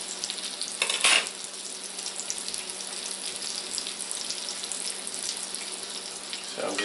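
Chicken cutlets for parmesan chicken fry steadily in a pan, giving a constant broad hiss with no talking. A brief clatter comes near the start, and another shuffle is heard at the end.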